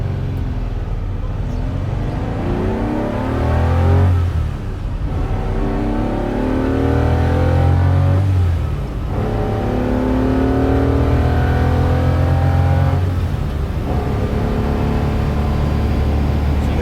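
Manual Ferrari engine revving loudly and accelerating through the gears, with rising engine notes broken by brief dips at each shift, close and continuous throughout.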